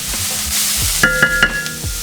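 Vegetables with garlic and onions sizzle steadily in a hot pan, loud and close, with a few sharp clinks of a utensil stirring against the pan.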